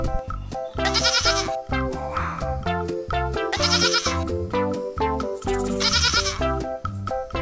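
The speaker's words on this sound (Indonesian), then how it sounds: "ada kambing warna putih" A white goat bleats in repeated loud, wavering calls close by, set against a busy patterned tonal backing that runs under it throughout.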